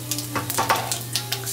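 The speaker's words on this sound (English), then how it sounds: "Let it sputter in the oil." Dried red chili and whole cumin seeds crackle and sputter in hot mustard oil, with quick irregular pops over a steady sizzle and a low hum, no talking.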